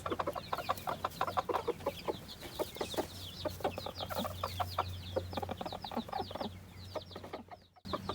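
Repeated soft clucking calls from a rooster, short bursts in an irregular rhythm over a low steady hum, fairly quiet, with no talking.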